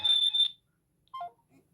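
A WS-X9 Ultra smartwatch places an outgoing Bluetooth phone call, giving a short, bright electronic ringing tone that stops abruptly, followed after a pause by a brief softer blip.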